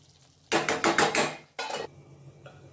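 Metal spoon scraping and clanking against a pan while stirring capsicum masala, a burst of quick close strokes followed by a second short flurry, then quiet.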